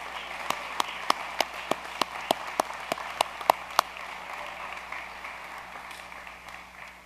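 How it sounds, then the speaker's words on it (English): Audience applause for the educators at Vineland High School's ceremony, a handful of sharp, distinct claps ringing out over a soft bed of crowd clapping that gradually dies away. "May we please take a moment and applaud our educators here at Vineland"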